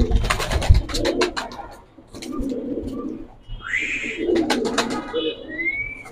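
Giribaz pigeons coo in a steady series of soft, throaty calls. They are close and fairly loud, with a few brief higher chirps mixed in and no clear talk.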